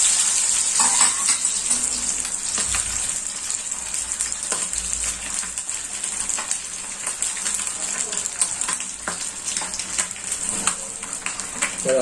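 Fish fries on a dosa griddle with a steady, fizzing sizzle that carries through the whole stretch, dotted with small crackles and turning sounds, while a voice talks quietly under it.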